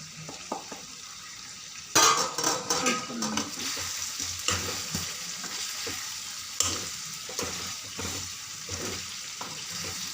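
Pounded masala spices hit a hot pan and burst into a loud crackling sizzle, with stirring scrapes and clatter against the pan throughout and the frying settling to a steady hiss.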